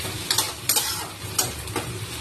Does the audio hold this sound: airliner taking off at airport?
no